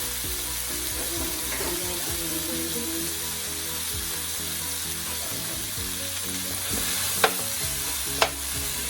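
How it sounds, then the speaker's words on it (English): Butter sizzles and fries in a pot of vegetables over low heat for a Jamaican-style steamed fish dish, a steady hiss with faint stirring clinks and two brief sharp knocks near the end. "I add butter to the pot."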